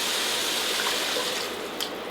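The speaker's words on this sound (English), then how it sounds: "we're gonna pour 4 cups of water" Four cups of water pour steadily onto cooked sweet potatoes and mushrooms in a pot, a continuous close rushing splash that eases slightly toward the end.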